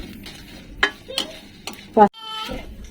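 Dried chilies drop into a pan with light clinks and a brief sizzle while a woman cooks olive pickle, a few sharp metallic knocks scattered under her talking.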